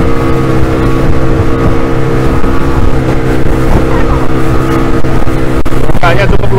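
A speedboat on the Musi River in Palembang drones loudly and continuously with a steady engine hum and wind buffeting, and faint voices are partly buried beneath.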